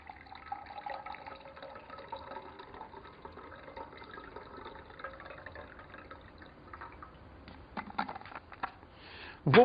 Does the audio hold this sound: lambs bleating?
no